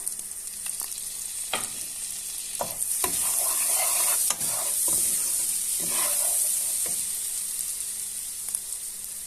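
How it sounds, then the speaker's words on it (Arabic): A big spoonful of butter melting in a frying pan, a bright steady sizzle broken by spoon scrapes and stirring knocks, close and fairly loud. "درت فيها معلقه كبيره ديال الزبده ونخليها حتى تذوب"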